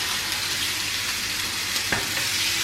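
Steady, loud sizzling and crackling of marinated beef cutlets frying in a hot pan, a continuous hiss with a brief sharper pop near the end.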